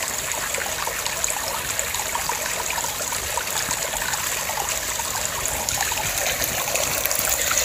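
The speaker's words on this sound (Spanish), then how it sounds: "se ve el flujo de agua" Water trickles and babbles continuously over stones at the source of a river, a close, steady bright gurgle with no voices.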